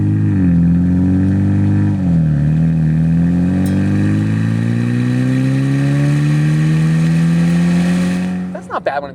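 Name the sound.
Ford Maverick Lobo 2-liter EcoBoost revving with Thermal R&D exhaust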